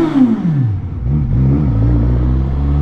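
A 2021 Suzuki GSX-S 1000 motorcycle on its stock exhaust revs loudly up close; the engine note drops from a blip, then settles into a deep, throbbing idle rumble.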